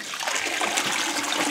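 A small water pump feeding a Pleitz jig at a diamond recovery facility, heard as a continuous rushing, splashing wash of water, steady and close for the whole moment.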